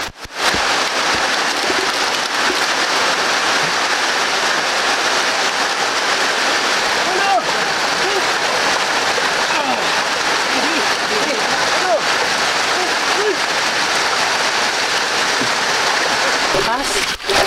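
Heavy rain pours steadily onto a roof at a fishpond overnight, a loud, continuous dense hiss and patter with no breaks, and faint voices occasionally mixed beneath the downpour.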